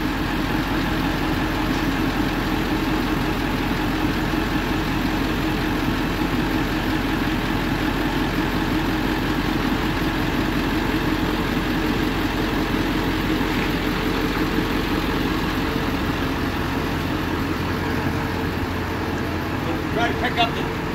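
A 1999 Ford F450 crane truck engine idles steadily and close by, a continuous low rumble that stays even for about twenty seconds.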